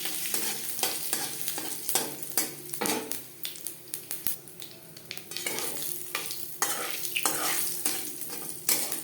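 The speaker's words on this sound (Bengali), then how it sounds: "জিরে শুকনো লঙ্কা তেজপাতা এক মিনিটের মতো ভেজে নেওয়ার পর" Cumin seeds, dried red chilli and a bay leaf fry in hot oil for a Bengali banana-flower ghonto, a continuous sizzle broken by repeated sharp clinks and scrapes of a spoon stirring in the pan.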